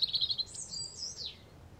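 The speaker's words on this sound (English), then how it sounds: "I can hear birds singing." Birds in a park give a short burst of high chirps followed by a longer sweeping tweet, clear and fairly close with no talk.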